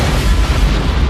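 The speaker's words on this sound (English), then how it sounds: "The explosion here rocked the ranch of Enrique Rojas less than an hour ago" A movie explosion from Patriot Games booms at a ranch, a dense, loud roar of deep rumble and broadband blast that fills the whole moment.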